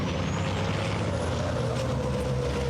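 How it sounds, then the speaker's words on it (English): Racing truck brakes squeal at the Hungaroring circuit during a European Truck Racing Championship round, a thin high whine running over the constant heavy roar of truck engines. "you can hear the brakes squealing as they pick their way around the back of the circuit"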